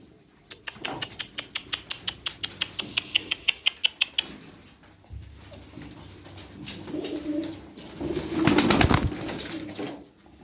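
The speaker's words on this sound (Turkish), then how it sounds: "Kanat seslerine bakın." A tumbler pigeon's wings clap and flap in a quick, regular rhythm that speeds up, then fades into softer rustling and a brief burst of wing noise.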